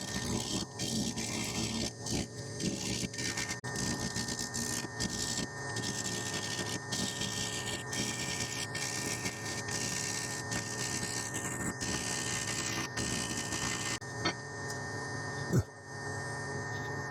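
A wood lathe turns an unbalanced palo verde crotch blank at a slow 360 RPM while a 3/4 inch beater gouge cuts it, giving a steady motor hum with continuous scraping and rough cutting noise throughout.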